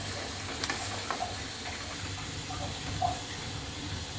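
Potatoes and soya chunks boil in salted water in a pot, giving a steady low bubbling and faint sizzling hiss with occasional small pops, close and moderately quiet, no talking.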